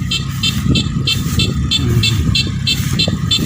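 A Kubota rice combine harvester, about four months old, runs in a paddy field with a loud, steady engine drone and a rhythmic, pulsing mechanical clatter repeating throughout.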